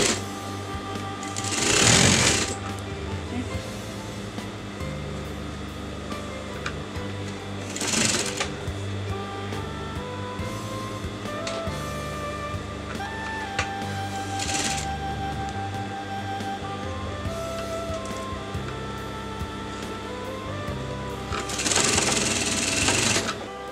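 A sewing machine stitches a collar shoulder seam in a few rapid, loud bursts of mechanical whirring, separated by quieter stretches of handling noise, heard up close.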